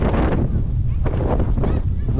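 Strong wind gusting outdoors, buffeting the microphone with a constant low roar and rushing bursts throughout, loud and close.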